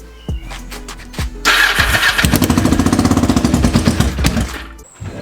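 A Kawasaki GPZ500S motorcycle with no mufflers fitted cranks with a few starter clicks, then fires up into a loud, harsh, rapidly pulsing idle that runs for several seconds before cutting off, with no talking heard.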